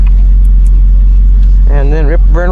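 A Ferrari 488 Pista engine starts with a loud, deep low rumble that swells into a rising rev near the end, with a person talking over it.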